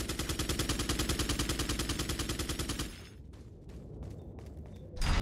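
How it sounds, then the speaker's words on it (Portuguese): Enemy gunfire rattles in Resident Evil 4, a long rapid burst of loud automatic shots followed by quieter scattered noise and a final sharp report. "Legal que ele tá atirando."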